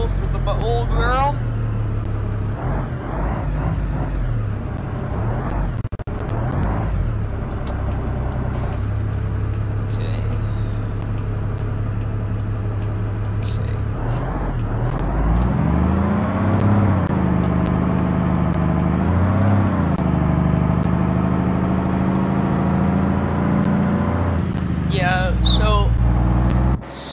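Heavy bus engine in BeamNG.drive droning steadily while towing a camping trailer, low rumble shifting pitch with gear changes and throttle, with a voice talking over it throughout.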